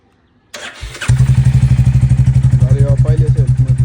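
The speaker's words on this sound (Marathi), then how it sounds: "आता चालू करतोय हिला. आता चावी लावतोय" A motorcycle left unused for 15 days is started with the key: a short cranking clatter, then the engine catches and settles into a loud, steady, close-up idle with rhythmic thumping pulses. A voice can be heard talking in the background.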